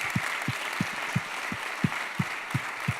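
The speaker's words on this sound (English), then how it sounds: "The applause again." Conference audience applause in Berlin, a soft, steady hiss of clapping with evenly spaced low thumps beating out a regular rhythm underneath.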